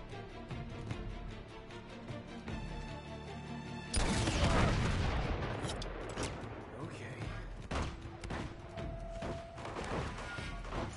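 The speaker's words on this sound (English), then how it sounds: "Still got tons of people somewhere above us, like, shooting" Gunfire and crashing impacts in the video game Uncharted 2, with a loud burst of shots and debris around the middle, then scattered distant shooting, while a player talks over it.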